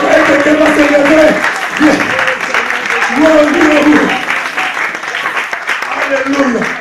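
A church congregation claps and cheers in loud, sustained applause to acclaim the Lord, while a voice speaks over the crowd.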